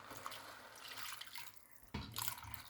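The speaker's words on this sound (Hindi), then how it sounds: "और अब मैं इसमें 2 गिलास पानी डाल के रख देती हूँ पकने के लिए।" Water is poured from a glass into a cooking pot of masoor lentils, a quiet splashing stream close by that breaks off briefly and then resumes.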